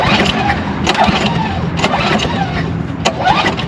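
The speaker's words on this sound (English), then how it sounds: "It will not start that first couple because we have to reprime the carb." A small carburetted engine, just reprimed with fuel, cranks with a rough, pulsing churn and catches into a ragged running sound, loud and close, over a few seconds.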